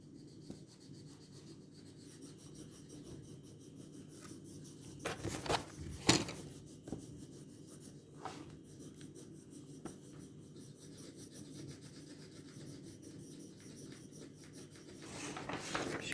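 A pencil rubs steadily across paper as a child colours parts of a drawing black, a soft continuous rasping scratch at close range with a few louder strokes, no talking.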